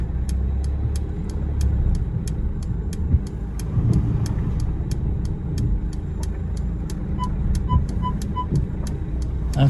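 A 2020 Mercedes A-Class with the AMG pack pulling out of a parking space by itself, a low engine hum under a regular series of rapid electronic ticking beeps, with a few higher chimes near the end.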